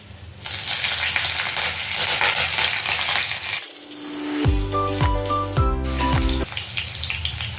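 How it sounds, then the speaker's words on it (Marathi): Tempering spices sautéing in hot oil for poha: a loud, dense close-up sizzle that briefly drops, then returns with clear ringing metallic tones sounding over the frying. "फोडणीचं साहित्य छान परतल्या गेलेलं आहे"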